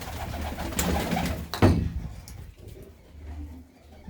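Pigeons coo and call inside a loft, soft murmuring coos with a louder burst of flapping or movement midway, several birds close by with no talk.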